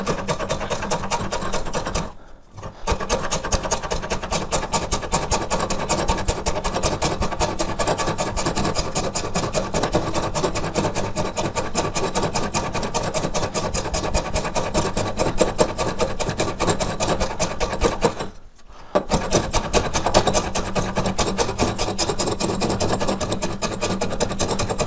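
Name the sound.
hand plane working wood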